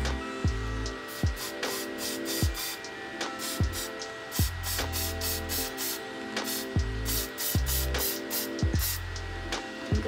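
Repeated short hissing spurts of matte fixative from a spray bottle, about 20 centimetres from paper, a dozen or more quick bursts in uneven rhythm, close and fairly quiet, with faint background music.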